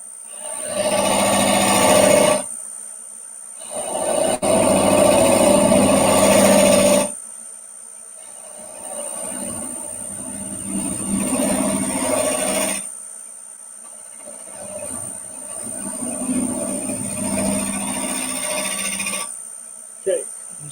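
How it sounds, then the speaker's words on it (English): A wood lathe turns a piece while a detail gouge cuts away material, giving a loud rough scraping hum in several long bursts separated by brief pauses, with no one talking. "Switch to my detail gouge to get a little bit more of this material away."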